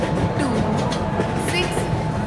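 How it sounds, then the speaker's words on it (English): A double-decker AC Superfast Express pulls into platform 1 in Indian Train Simulator, a steady rolling rumble of rail wheels running throughout beneath a voice. "AC Double Decker Superfast Express is arriving at platform number 1"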